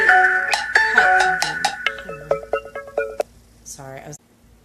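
A smartphone ringtone plays a bright melodic run of chiming tones, loud and close, during a live broadcast, fading into shorter stabs before stopping abruptly.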